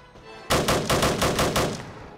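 Rapid bursts of primary-weapon gunfire in a zombie video game, a loud run of about eight evenly spaced shots starting abruptly after a quiet moment and continuing to the end.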